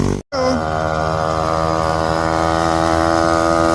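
Yamaha Aerox motorbikes run on the Marilaque road, giving a loud, close, droning engine note with a steady pitch after a brief cut at the start. No voices are heard.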